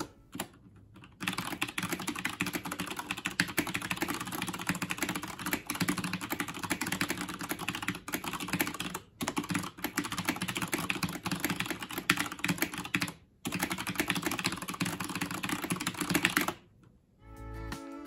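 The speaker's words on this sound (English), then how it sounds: "let's do a quick 15-second type test" Rapid, steady typing on a Logitech G610 Orion mechanical gaming keyboard with Cherry MX Brown tactile switches, a dense clatter of keystrokes with a few brief pauses, heard close and alone.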